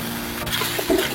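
A brief burst of water hissing and bubbling in a hot pan as a little water is added to chicken noodles (mie ayam), a loud, steady sizzle with a little gurgling.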